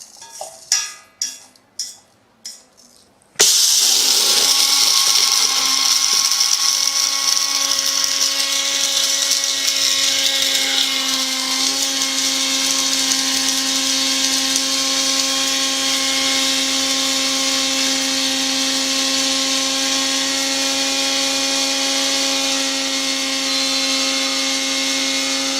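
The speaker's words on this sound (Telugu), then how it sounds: "మిక్సీలో వేసేసి పౌడర్ కొట్టుకోవాలి." A mixer grinder whirs loud and steady, pulverising fenugreek seeds and curry leaves to powder, after a few short rattling pulses; the high motor whine holds unbroken for over twenty seconds, close and alone.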